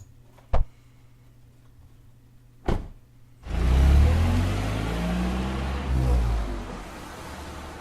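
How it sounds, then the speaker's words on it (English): A car drives away in a visual novel video game, heard as a loud engine rumble that starts suddenly after two sharp clicks and then holds steady and near. "I'm here listening to a car drive away while looking at a sky."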